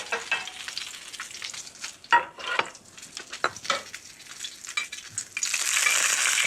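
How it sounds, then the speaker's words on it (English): Salmon sears in hot oil in a sauté pan, a close, loud sizzle broken by scraping and stirring clatter, with the frying hiss swelling steadily toward the end. "As soon as that hot oil hits the liquid that's in the flesh,"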